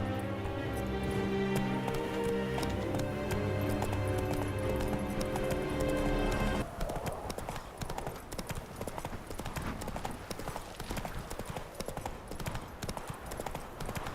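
Roach, the horse in the Witcher 3 video game, gallops with a rapid, steady clip-clop of hooves that continues to the end, following a stretch of game music.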